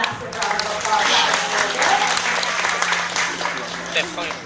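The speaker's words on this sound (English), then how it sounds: "let's give our volunteer a massive round of applause" An audience at a parrot show in Great Yarmouth applauds a volunteer, with steady clapping sustained across the whole stretch at a fairly even level, loud and close, with a few voices mixed in.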